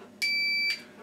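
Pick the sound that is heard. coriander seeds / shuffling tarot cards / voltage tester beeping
voltage tester beeping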